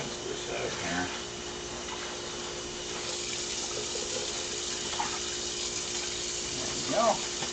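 Tap water runs steadily into a kitchen sink while carrots are rinsed, a constant hiss with faint clunks of handling over it and brief speech nearby.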